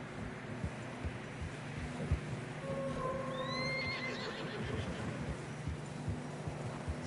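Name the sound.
horses neighing and hooves in video game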